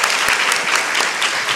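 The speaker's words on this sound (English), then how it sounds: "Give one more round of applause." A church congregation breaks into a strong round of applause, dense and steady clapping close and loud throughout the brief moment.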